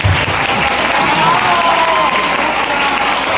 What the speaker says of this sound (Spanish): Fuerte los aplausos para nuestra hermana